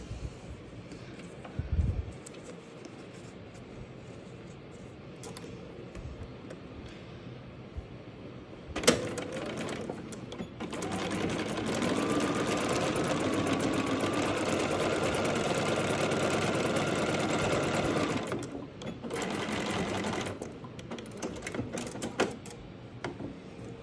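A sewing machine stitches quilt block pieces, with fabric handling and a couple of knocks first, then a steady mechanical run of about nine seconds before quieter rustling returns.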